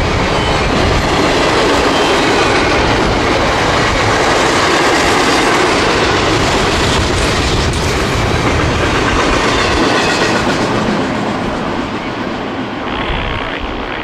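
A very long CSX freight train of about 250 cars passes close by in light rain, a loud continuous roar of rolling wheels and clattering cars that holds steady throughout.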